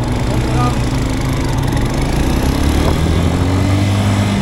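A motorcycle engine idles close by in a steady, loud, even drone, with voices talking faintly over it.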